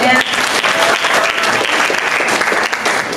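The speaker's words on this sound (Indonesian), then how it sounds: "kita beri aplaus dong moderatornya" A university lecture audience in Semarang bursts into loud, sustained applause for the moderator, a dense wash of clapping from a large crowd that carries on evenly for a few seconds.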